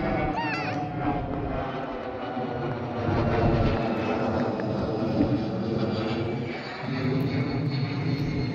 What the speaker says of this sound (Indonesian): Tuh ada pesawat tuh.